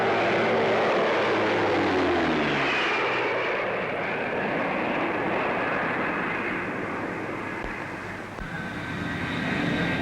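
A Handley Page Marathon turboprop airliner drones loudly and steadily as it passes at the 1949 Farnborough Air Show, its engine tone shifting slightly while the roar holds for the whole stretch.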